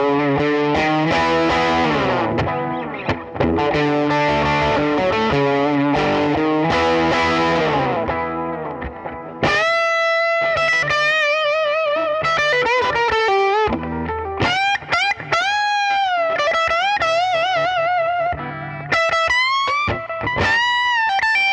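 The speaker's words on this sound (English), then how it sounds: "I'm going to plug in a reverb delay pedal" A loud, distorted electric guitar played through a reverb and delay pedal plays chords and then melodic bends, washed in echoing repeats and lingering reverb, with no voices.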